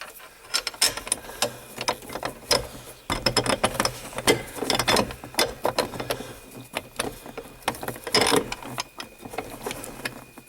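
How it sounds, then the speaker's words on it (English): Four bolts are fitted through a seat belt bracket into the seat bracket of a John Deere 6000-7000 tractor buddy seat, with repeated metallic clicks, rattles and ratcheting bursts, close and busy, no talking. "Insert the 4 bolts in, going through your seat belt bracket into the seat bracket."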